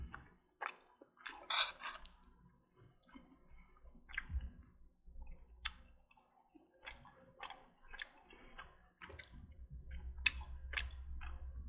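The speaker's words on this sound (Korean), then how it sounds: "제가 이거를 한번 먹어보도록 하겠습니다" A person chewing food in a mukbang eating spicy fare with a cheongyang chili, soft close wet clicks and crunchy bites in irregular rhythm, faint and intimate without speech.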